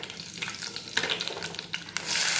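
Red chillies fry with cumin and mustard seeds in hot oil for a Telangana green gram snack, giving a close, continuous crackling sizzle with stirring scrapes that swell louder at the end, with no talk.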